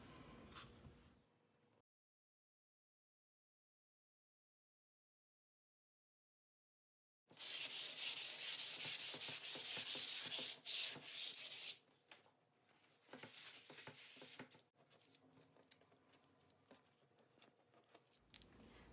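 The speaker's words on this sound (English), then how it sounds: "we're going to do another quick sand over our whole background color." Painted wooden sign background being hand-sanded, a steady abrasive rasping that runs loud for several seconds after a long silence, then continues in softer, uneven strokes.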